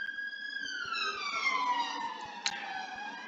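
A single emergency siren wails with a smooth tone sliding slowly downward, heard at moderate distance with faint background noise and no talk.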